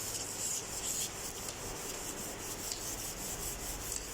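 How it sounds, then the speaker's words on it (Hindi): Sandpaper rubbing lightly over a fiberglass sheet surface, a steady rasping scrape repeating in quick even strokes throughout, close and moderately loud with no voices. "तो उसको रेगमाल से आपने हल्का हल्का मार देना है ताकि उसकी सरफेस जो है ना वो ऊपर से ख़त्म हो जाए"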